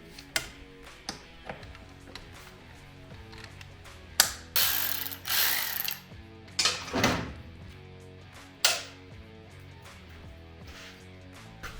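Ratchet wrench loosening the radiator mounting bolt on a 2007 Honda CBR1000 motorcycle, heard as sparse clicks and taps followed by a few louder bursts of rapid ratcheting and metallic clatter, close by with no talk.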